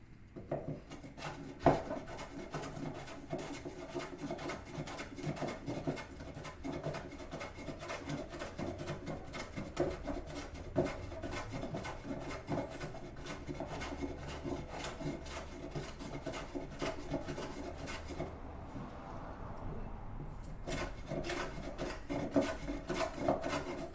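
Hand plane working across wood on a Roman workbench, steady rapid rasping strokes repeating close by, with a brief pause near the end before the shaving resumes.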